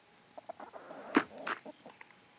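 Chickens dust bathing in dirt, giving scattered soft clucks and short scratchy rustles at low level, with a couple of louder sharp bursts midway.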